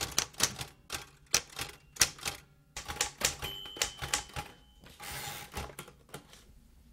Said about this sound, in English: This is the old Royal typewriter that you saw Ben Urich use in the Daredevil story